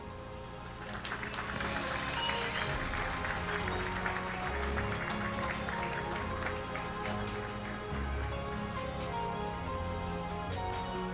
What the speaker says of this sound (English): please help me with a big round of applause, a celebratory one of that, as we welcome here to the stage our winner